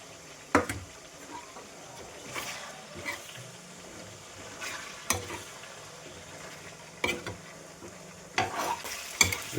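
Pork frying in a pan with spices and water, a soft steady sizzle broken by sharp clacks and scrapes of stirring against the pan, close and fairly quiet.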